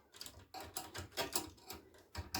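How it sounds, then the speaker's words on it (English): Screws are backed out of a Pioneer SX-1250 stereo receiver with quiet, rhythmic ratcheting clicks, close and faint, in quick repeated bursts. "Let's take out the screws."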